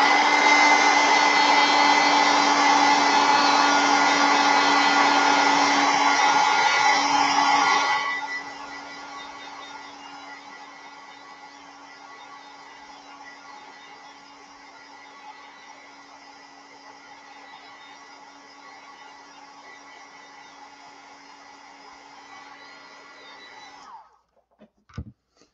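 Hair dryer blowing over wet acrylic paint on a canvas, a loud steady whir for about eight seconds that drops to a quieter lower setting and runs on evenly until it cuts off with a brief clunk.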